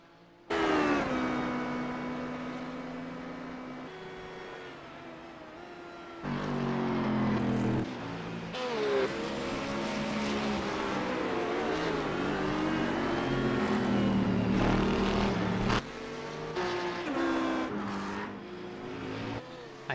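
Race cars in sportscar qualifying at Donington, engines screaming through repeated rises and falls in pitch with gear changes, loud and continuous, with cars passing and the tone sweeping up and down over about twenty seconds.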